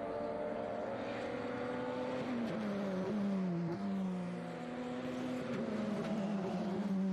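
A Radical race car passes on the NOLA track during Blue Marble Radical Cup Race 1, its engine note sliding down in pitch as it goes by at a moderate distance, with a steady background drone.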